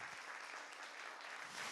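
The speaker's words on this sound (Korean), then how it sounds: "큰 박수 보내주시기 바랍니다" An audience applauds at a talk, with faint, distant clapping forming a soft, even wash of sound.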